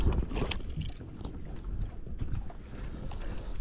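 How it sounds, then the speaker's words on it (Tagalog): Steady strong wind buffeting the microphone over the slap and wash of large waves against a small fishing boat, a continuous rough rumble out on open sea. "Medyo malalaki yung alon, malakas yung hangin."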